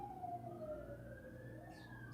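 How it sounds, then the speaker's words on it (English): Emergency sirens from a police car, ambulance and fire truck sweep past on the street, one rising wail gliding upward over steady traffic rumble, with a second tone layered in near the end, loud and continuous. "Wow, you hear all those sirens?"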